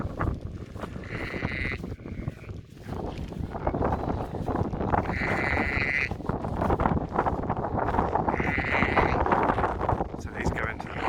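Sheep bleat repeatedly, several calls rising above a steady roar of gale-force wind buffeting the microphone while they are brought in to a barn, with people talking underneath.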